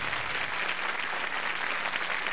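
Audience applause fills a live 1987 concert in Chile, a dense, continuous clapping that stays loud and even throughout, with no voices standing out.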